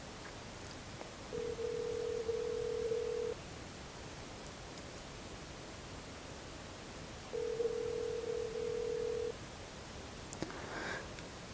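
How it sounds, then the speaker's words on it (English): An outgoing phone call rings out unanswered to a friend in the mountains of the United States, two long steady ringback tones about six seconds apart, quiet over faint background hiss. "let me try to just give my friend here a phone call"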